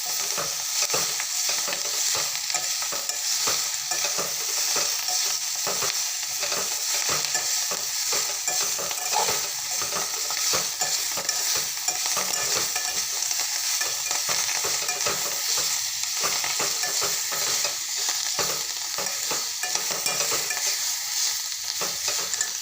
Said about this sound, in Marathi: मस्त अशी खालून वरून हलवून घ्यायची